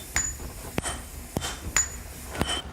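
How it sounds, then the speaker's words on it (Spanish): Heavy hammers strike red-hot iron in a traditional sword forge, four sharp ringing blows spaced about half a second to a second apart, close and clear over a low steady background hum. "Los estudiantes manejan los enormes martillos que dan forma al hierro al rojo"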